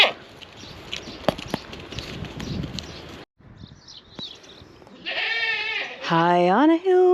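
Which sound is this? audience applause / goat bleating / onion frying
goat bleating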